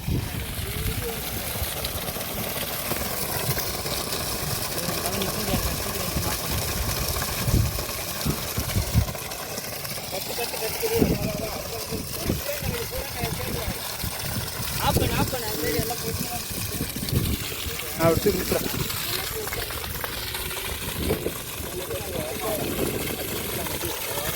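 A 7.5 HP solar-powered motor pumps water from a 500-foot borewell through a 2-inch delivery pipe, a steady gushing and splashing flow with a low motor hum underneath, while people talk over it throughout.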